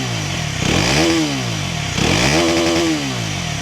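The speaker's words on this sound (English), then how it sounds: "part of this beautiful styling is this underslung exhaust. We deserve a little listen." A Mondial Piega 125cc motorcycle's underslung exhaust revved twice, each rev climbing sharply in pitch then settling back to a rumbling idle, loud and close.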